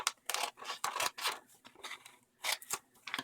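Small scissors snip through a colouring page being shaped into an envelope, a series of close, crisp cuts in irregular bursts with short pauses between them.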